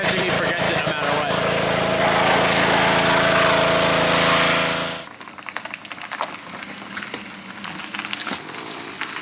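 A pressure washer sprays down a Nissan S13 in a loud, steady hiss for about five seconds, then cuts off abruptly, leaving scattered clatter and faint handling noises.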